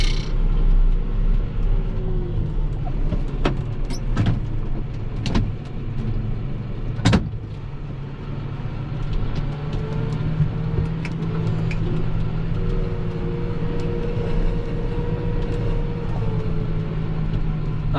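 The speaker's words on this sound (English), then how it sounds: "The hydraulics have more of a whine, but it's definitely a quieter overall tractor." New tractor running with a steady low engine rumble and a faint whining hum from the hydraulics, heard from close by inside the cab, broken by a few sharp clicks and knocks.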